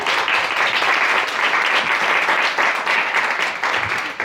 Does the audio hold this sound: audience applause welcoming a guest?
yes